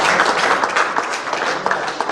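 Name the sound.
audience applause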